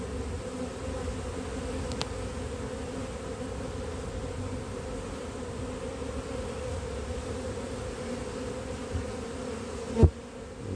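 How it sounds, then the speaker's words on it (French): Honey bees buzzing around two small nucleus hives, a steady dense hum that fills the whole stretch, close and unbroken, with a sharp knock near the end. "les abeilles vont entrer dans les deux ruchettes qui ne sont pas très peuplées"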